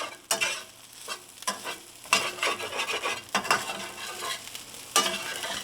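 Vegan lentil crumble mix stirred and sizzling in a hot nonstick pan, with scraping utensil strokes and bursts of frying noise in an irregular rhythm, close and fairly loud, with no talking.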